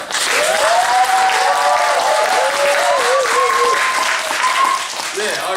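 Steady audience applause with cheering voices mixed in, loud and sustained throughout.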